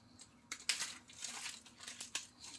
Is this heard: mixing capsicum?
no